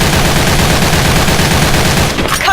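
Rapid, sustained automatic fire from an AK103 rifle in Special Force 2, shot from a crouch, rattling loudly and continuously for about two seconds before cutting off.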